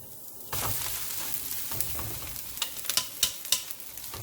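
Rice tossed into a hot pan with smoked sausage sizzles and fries, with repeated scraping stir strokes building into sharp rhythmic clatters toward the end, close and alone.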